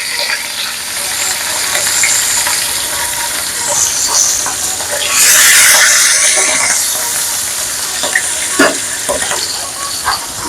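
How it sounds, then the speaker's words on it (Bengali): Pieces of katla fish fry in hot oil in a kadai, giving a continuous crackling sizzle that swells into a louder hissing burst midway, with faint clinks and a few sharp pops. "কড়াইয়ের তেলটা গরম হয়ে গেছে, এবার মাছগুলো তেলে দিয়ে দেবো একটা একটু করে।"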